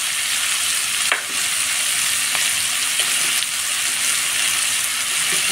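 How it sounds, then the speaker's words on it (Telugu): Bitter gourd fry ingredients roasting in a pan on a medium flame give a steady, even sizzle, with a few faint stirring clicks and no voices. "ఇలాగే మీడియం ఫ్లేమ్ పెట్టుకొని ఒక 10-15 మినిట్స్ ఇలాగా వేయించుకొని బాగా రోస్ట్ అయిపోయి"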